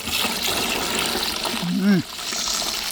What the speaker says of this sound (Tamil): இப்போ தண்ணி ஊற்றி அலசுறோம்.